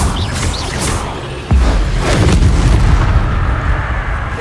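A fiery Incendio spell cast in Hogwarts Legacy erupts as a heavy booming blast about halfway through, after a rumbling lead-in, then a roaring burst sustains loudly to the end.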